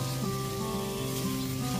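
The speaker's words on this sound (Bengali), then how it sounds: "গ্যাসের ফ্লেমটা মিডিয়ামে রেখে খুব ভালো মতো একটুখানি ফুলকপির টুকরোগুলোকে কষিয়ে নিচ্ছি।" Cauliflower pieces stir-fry with spices over a medium gas flame, making a constant soft sizzle with a faint steady hum underneath, close and quiet with no talking.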